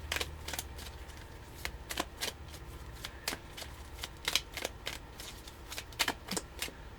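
Story cards are shuffled close up in quick, crisp riffling bursts with short gaps, soft and repeated throughout with no talk.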